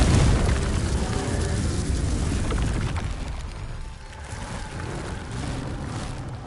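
Fire spell explosion in Hogwarts Legacy, a heavy, booming burst with a rumbling roar that fades slowly over several seconds, loud and alone without talk.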